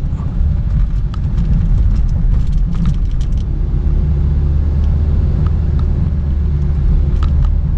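Close, steady engine rumble from a Honda Brio 1.3 hatchback climbing a steep road, with intermittent clicks and light rattles over the constant drone.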